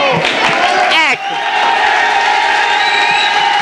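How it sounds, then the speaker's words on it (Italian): A crowd at a regional band competition in Bevagna cheering, whooping and applauding loudly as the president arrives, with a brief dip midway before the noisy clapping and shouts resume. "l'applauso è per il presidente che è arrivato in questo momento"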